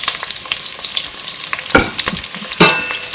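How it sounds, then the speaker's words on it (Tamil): Onions, garlic and dried red chillies with fenugreek and curry leaves sauté in hot oil for a Tamil fish curry: a loud, close, continuous sizzle with bursts of crackle and occasional stirring scrapes, without speech. "இது கொஞ்சம் வதங்கட்டும்."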